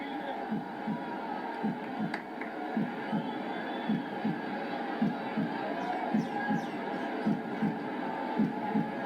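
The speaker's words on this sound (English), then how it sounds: "The heartbeat noise continues to ring out around the ground." A heartbeat sound effect booms over the public address at a cricket ground during a Nepal Premier League match, Karnali Yaks against Janakpur Bolts, thumping in a steady, even rhythm above a faint crowd murmur.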